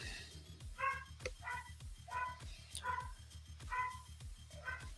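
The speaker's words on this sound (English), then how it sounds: "There goes the dogs again." Several dogs bark repeatedly in bursts, moderately near, with no talk over them, against a steady low electrical hum.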